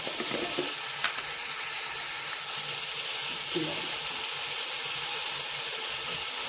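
Beef sizzles and fries steadily in a pan for beef karahi as garlic-ginger paste goes in, a continuous close hiss with a few soft stirring knocks, no talk.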